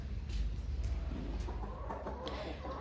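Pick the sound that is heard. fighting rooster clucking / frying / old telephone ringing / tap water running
fighting rooster clucking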